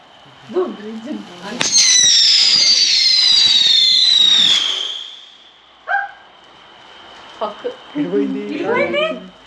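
Diwali firecracker bomb exploding with a loud bang and a long rising whistling screech that lasts a few seconds, followed by sharper pops, people talking and a dog barking nearby.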